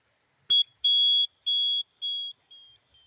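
Motorcycle ignition key turned on, giving a high electronic beeper's series of five evenly spaced tit tones after a click, each beep slightly fainter than the one before, with nothing else audible.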